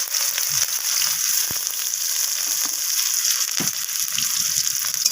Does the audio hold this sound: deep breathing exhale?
no